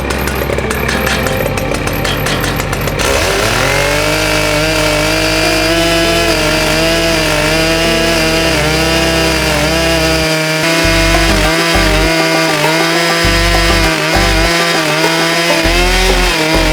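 Chainsaw fitted with a brand-new ripping chain milling a log for a life-sized hippo carving, running loud and continuous close by, its engine pitch shifting steadily as the cut progresses with no talk.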